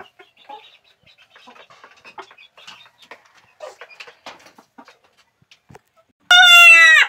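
Dolphish short silky chickens give soft, scattered clucks and murmurs close by, followed near the end by a sudden loud, drawn-out crow.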